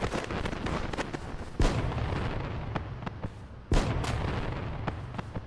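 Fireworks thrown in Final Fantasy XI crack and boom in two loud bursts over a dense, steady crackle of game noise, with no voices.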